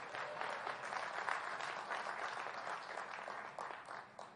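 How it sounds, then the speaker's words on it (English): An audience applauds at a Morehouse College commencement, with steady, dense clapping throughout, heard at a distance and fairly faint. "You can clap for him."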